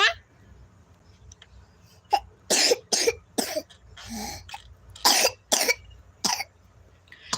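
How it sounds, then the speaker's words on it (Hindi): A series of short, sharp coughs, some in quick pairs, rising from a quiet room at close range with a few soft sounds between. "खांसी हो रही है ना?"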